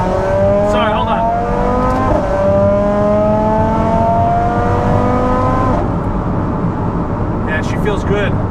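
A big-turbo Audi RS3 drag car accelerates hard through its gears, its engine note climbing and dropping at each shift, loud and heard from inside the car, with talking at moments.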